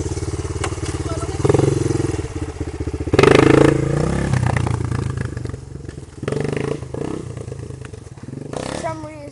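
Dirt bike motorcycle on a backyard motocross track, its engine revving and sputtering in bursts with clatter and thumps, loud and close, while people talk over it.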